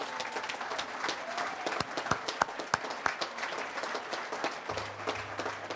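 A crowd at a sports hall of fame induction banquet applauds, a dense, steady wash of many hands clapping, heard from a distance in a large room, with a faint low hum near the end.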